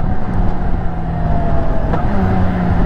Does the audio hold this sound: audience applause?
no